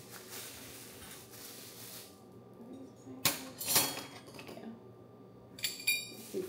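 Several big metal spoons clink and clatter in a kitchen, a few sharp bright knocks in separate bursts against soft background noise, no talking.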